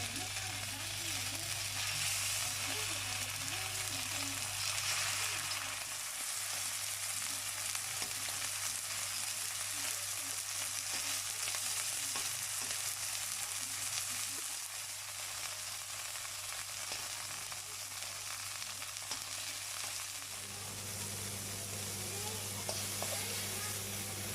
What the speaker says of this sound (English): Now I'm just gonna start searing my beef.